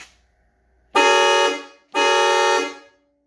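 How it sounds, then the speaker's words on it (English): A GM 4-note horn fitted to a 2004 Saturn Vue blasts twice, two loud, long chord-like honks of about half a second each separated by a short gap, close and alone. "I'll go in here and let you hear a honk."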